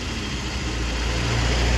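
A small car's engine idles steadily close by, a low, even rumble with a faint rise in level toward the end, with no voices over it.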